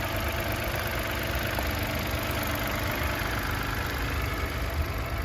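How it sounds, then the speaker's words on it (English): A 2022 Mitsubishi Mirage Space Star ES idles steadily, its small engine giving an even, close, unbroken hum with no voices over it. "So let's have a closer look one more time how it sounds."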